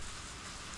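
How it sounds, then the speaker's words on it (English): Steady rain from the Higurashi video game, a dense, even hiss of falling drops throughout the brief moment, with no voices. "the rain began to pick up"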